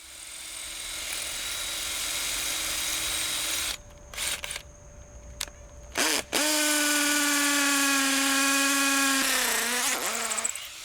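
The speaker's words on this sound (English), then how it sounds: "concrete bit, drill with the hammer feature" A hammer drill with a concrete bit bores into a septic tank lid, grinding loudly and steadily at close range, pausing briefly in short bursts midway before running on again.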